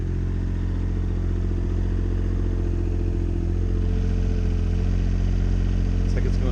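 A Takeuchi TB135 excavator engine with water in it runs rough and uneven, its low rumble wavering as it stumbles and nearly stalls. The sound is continuous and close, with clattering mechanical noise throughout.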